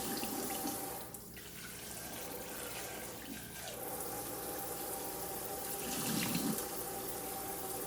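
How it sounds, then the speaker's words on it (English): Water runs steadily from a kitchen faucet over freshly churned homemade butter, a quiet continuous splashing stream with slight changes in tone as the flow hits the butter, with no talking. "we're going to keep on pouring water on this until it comes out"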